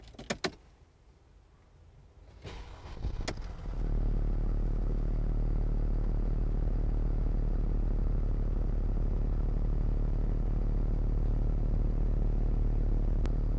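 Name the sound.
Mercedes-Benz G350 BlueTEC engine starting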